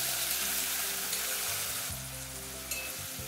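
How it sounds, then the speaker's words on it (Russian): Onion and carrot sizzle steadily in a hot pan, a close, even frying hiss with a low hum beneath and a brief clink near the end. "Лук и морковь обжарим,"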